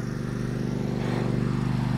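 A ride-on lawn mower mowing grass at a football club drones steadily and fairly close, a constant low mechanical hum with a slight pulsing rhythm and no speech.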